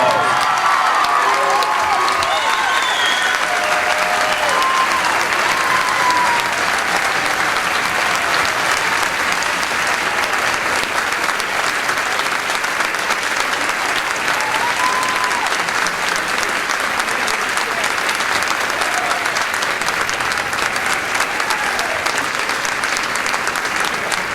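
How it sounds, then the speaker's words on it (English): Long, loud ovation for high school marching band seniors: a crowd claps continuously with scattered cheers and whoops, a few voices calling out faintly beneath the dense clapping. "Let's give them a well-deserved round of applause."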